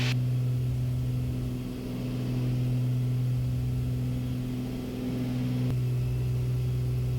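Steady twin-engine drone of a Beechcraft Baron in flight, RPM set to 2,400, with strong continuous propeller and engine hum holding constant and loud throughout, no talking.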